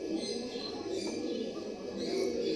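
Pigeons cooing steadily in a loft kept for breeding pairs, a continuous soft layer of overlapping coos close by with no talk over it.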